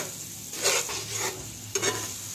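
Masala spice paste fries in a pan, a soft steady sizzle broken by a few scraping swishes of a spoon stirring it, close and clear with no voices.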